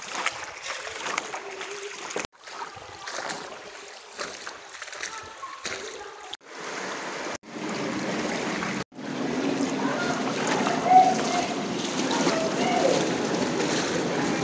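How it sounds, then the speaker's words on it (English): Footsteps wade and splash through ankle-deep stream water in the Wadi Numeira canyon near the Dead Sea in Jordan, making steady sloshing, broken by short pauses and louder continuous churning toward the end. "Most of the time, you will walk on the water that gets ankle deep."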